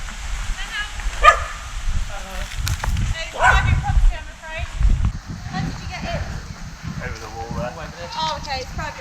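Outdoors on private college property, a dog barks in a couple of sharp yips while people talk loudly over it nearby.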